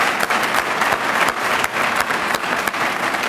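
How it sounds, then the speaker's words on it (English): A crowd at a veterans' awards and promotion dinner gives faculty and staff a big round of applause, loud sustained clapping with some sharper individual claps standing out near the front. "let's give them a big round of applause"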